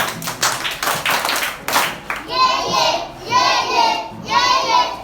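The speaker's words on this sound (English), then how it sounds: "So let's give Kelvin a super clap" Children in a primary school classroom perform a rhythmic group clap for a classmate, a quick burst of hand taps followed by three loud, swelling rounds of cheering or chanted response.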